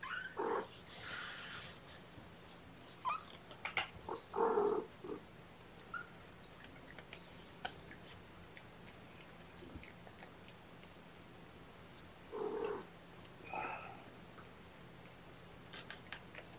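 A young kitten gives several scattered meows, some short and some drawn out, in a quiet indoor room with faint low purring and soft ticking between calls.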